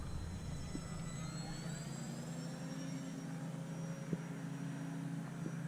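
A small HobbyZone Mini Apprentice RC plane buzzes past close by, its electric motor whining with a steady tone that slowly shifts in pitch, loud and continuous with no talking.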